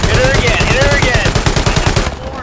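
Rapid automatic gunfire from the World War II shooter Hell Let Loose, loud, close and sustained in fast bursts with a few heavier reports, easing off at the end.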